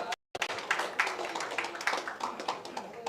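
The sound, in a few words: audience applause welcoming a guest on stage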